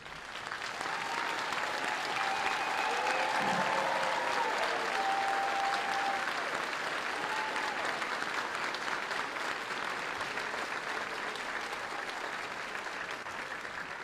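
Sustained applause from an audience at an Army basic training graduation at Fort Jackson, a steady distant wash of clapping lasting over ten seconds with faint voices and whistles mixed in.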